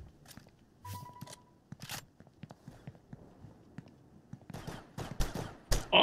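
Video game gunfire in Star Atlas, a scattered series of short bursts and shots at moderate loudness, with denser, louder firing toward the end.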